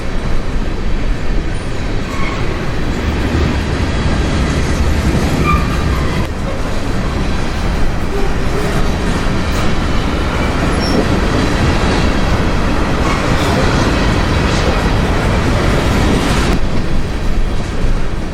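A Union Pacific unit train of solid grain cars rolls past on the prairie, a long loud steady rumble of wheels and clattering cars with occasional faint squeals.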